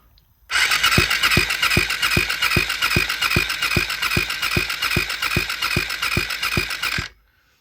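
A Suzuki GSX-S125 engine is turned over by its starter motor for a compression test, running off a battery. It makes a loud, close, steady chugging of about three even beats per second for roughly six seconds, with no talking.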